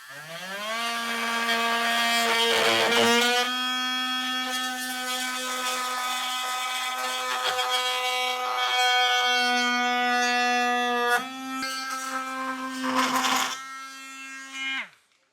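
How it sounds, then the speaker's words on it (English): An oscillating multi-tool cuts through plastic trim during a trailer hitch install on a 2023 Mazda CX-50, letting out a loud sustained buzzing whine with a steady pitch that jumps at points, breaks off briefly and stops at the end. "I'm using a multi-tool. You could use a Dremel or just anything that you have that can cut through this plastic"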